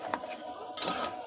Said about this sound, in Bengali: আপা নাড়তে থাকো